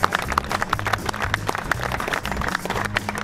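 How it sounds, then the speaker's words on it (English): Audience applause at a Classic Chevrolet dealership event in Grapevine, Texas, honoring the dealer's award: a steady patter of hand claps from a modest crowd, continuous over a low music bed, with no talk. "Let's give a round of applause for that"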